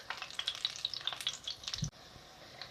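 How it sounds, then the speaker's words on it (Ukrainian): Semolina patties with dried apricots fry in hot oil after being flipped, crackling with dense, bright sizzling pops up close, followed by a brief thud and then quieter, thinner sizzle. "Перевертаю на другу сторону, нехай обжарюються з другої сторони"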